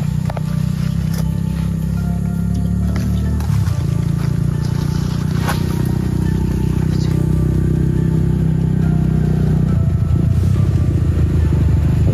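A motorcycle engine idles and runs loud and close at a mining site, a heavy continuous low rumble that shifts pitch around the middle and near the end, with no talk.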